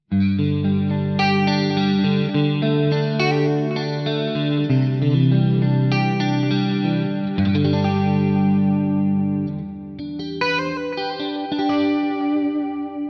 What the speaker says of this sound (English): So this is the chorus added in.